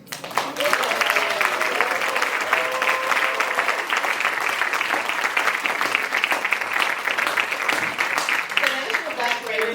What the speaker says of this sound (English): Please join me in giving Peniel E. Joseph a warm round of applause for the W.E.B. Du Bois Award.